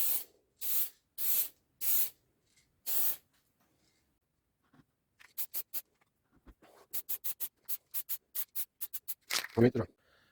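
Stain-blocking primer sprayed onto a wooden air duct cover in short bursts, about five longer blasts followed by a quick run of brief repeated sprays, close and fairly loud with quiet gaps between.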